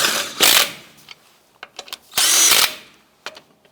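A power tool, likely an impact driver, snugs down the wheel lug nuts on a 2004-2012 Chevy Colorado in two loud, close, whirring bursts of about half a second each, with light clicks and handling between them.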